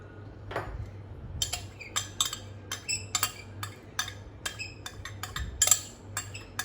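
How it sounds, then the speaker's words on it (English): Oil and coconut milk being whisked together in a bowl for pandan chiffon cake: quick, irregular metallic clinks of a utensil against the bowl, close and crisp, with no talking. "Now the oil and the coconut milk will tend to coagulate, so you have to mix it very well."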